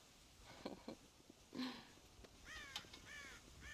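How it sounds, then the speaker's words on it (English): Crows cawing in the western video game Red Dead Redemption, a few harsh calls spread over a few seconds, moderately near and fairly faint against quiet background ambience. "God damn crows!"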